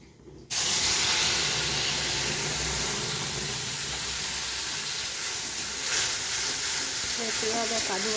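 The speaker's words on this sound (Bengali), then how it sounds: "বাকি তেলটা দিয়ে দিলাম কড়াইয়ে আর একটু ফোড়ন দিয়ে দিলাম গরম মশলা এলাচ লং আর দারচিনি সামান্য পরিমাণে এবারে একটু ভেজে নেব" Garam masala, cardamom, cloves and cinnamon hit hot oil in a wok and burst into a loud, steady sizzle that continues without letting up.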